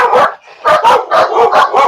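A dog barks five times in quick succession, loud and close, with no one talking over it.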